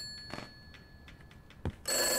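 A telephone rings in a horror video game: a short, bright burst of ringing arrives near the end, loud and close after a quiet stretch of faint ambient ticks and thumps.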